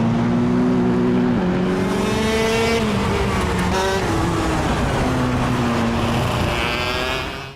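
Racing kart engine from the KartKraft sim, a loud, buzzing high-revving whine that rises and drops with throttle and shifts over several seconds, close and continuous before cutting off at the end.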